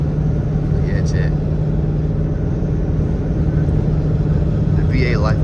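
A straight-piped Dodge Charger R/T drives through city streets with a loud, continuous low engine and exhaust rumble heard from inside the car. Voices speak faintly over the drone.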